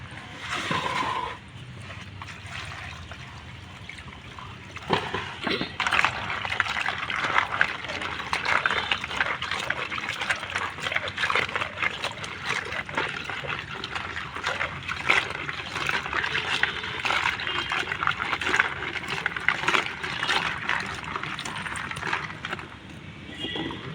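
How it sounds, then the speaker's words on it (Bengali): Cut crabs being rinsed by hand in a basin of water, with steady splashing and trickling that runs continuously at close range, briefly louder around the middle, with no talking. "কাঁকড়াগুলো কেটে প্রথমে একটু ধুয়ে নেবো"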